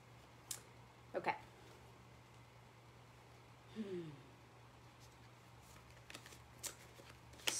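Hebrew cards being shuffled, soft riffles and rustles coming in a few short bursts at close range, quiet and alone with no speech, against a faint steady hum.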